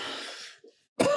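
A single short cough in a quiet room, close and fairly loud, follows a fading breathy sound and a brief pause.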